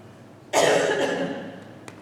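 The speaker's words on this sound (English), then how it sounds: "I'm going to cough." A single sharp cough at a school district budget hearing, close and loud, bursting out abruptly and trailing off over about a second.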